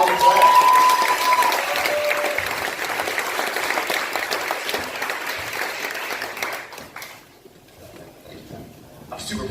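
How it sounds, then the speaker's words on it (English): A large audience at a real estate event claps loudly and steadily for a guest, a dense roar of hands that gradually thins out and drops away toward the end, with some cheering mixed in. "Let's give him a giant round of applause."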